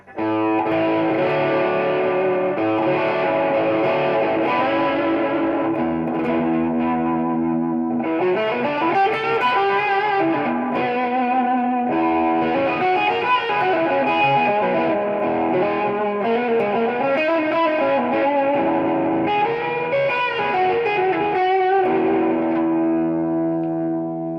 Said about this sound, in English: So the tail on the reverb gets pretty damn long going that route.